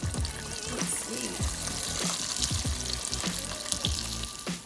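Whole catfish frying in hot oil gives a loud, steady sizzle with bursts of crackling and bubbling, close up and continuous, with occasional stirring clatter and no talk.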